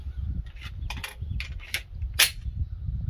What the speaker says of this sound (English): go ahead, put that new mag in